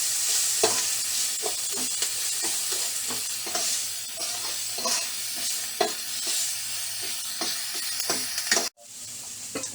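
Onions frying in a pan for a spicy bread pakora snack, with a continuous close sizzle and repeated scraping stirs, before the sound cuts off abruptly near the end.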